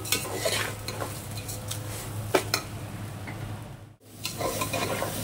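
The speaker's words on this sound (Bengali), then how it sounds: "চালটা একটুখানি ভেজে নিচ্ছি।" Rice being fried and stirred in a pan for basanti pulao, a soft continuous sizzle with repeated scraping strokes and light metal clinks, a brief pause near the end before stirring resumes.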